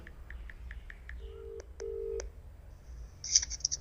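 A telephone number is dialed in a Punjabi drama scene: a quick run of short keypad tones, then a few longer beeps and a faint higher electronic chirp, quiet and close with no talking.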